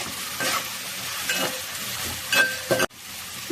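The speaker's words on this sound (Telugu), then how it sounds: "బాగా వేగిపోవాలండి ఎర్రగా" Onions with ginger garlic paste sizzle steadily in a pan for fish curry, with a few close stirring scrapes rising over the hiss before it cuts off abruptly.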